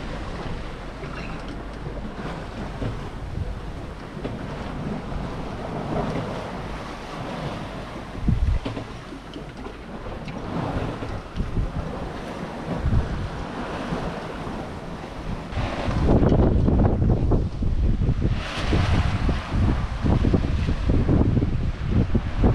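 Steady wind roars and waves rush against the hull of a sailing boat at sea under a blue sky with a few clouds, the wash and gusts swelling louder toward the end, with no voices.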